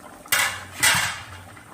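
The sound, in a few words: covering the fish pan with a lid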